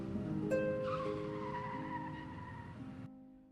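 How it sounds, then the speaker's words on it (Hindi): A car brakes to a stop on a road, its tires letting out a faint, drawn-out skidding squeal that holds for a couple of seconds before cutting off abruptly. "मैंने गाड़ी रोकी"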